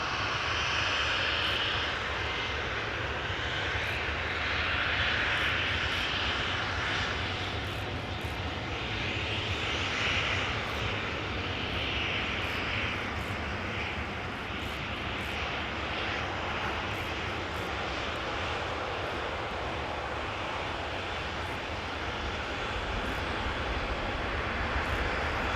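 Delta Air Lines Airbus A330 on its takeoff roll from runway 18C at Amsterdam Schiphol, bound for Atlanta; a loud, steady roar of jet engines with a rushing broadband hiss that holds throughout, no voices over it.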